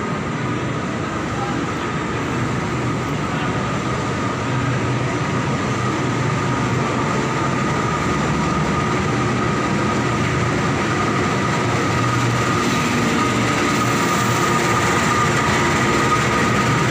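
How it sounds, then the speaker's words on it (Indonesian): Steady, continuous rumble of the Wijaya Kusuma passenger train on the Yogyakarta to Surabaya route, a loud onboard drone with a faint rhythmic wheel clatter running unbroken throughout. "Ini para penumpang sudah siap-siap semua, sudah standby dan naik ke kereta Wijaya Kusuma."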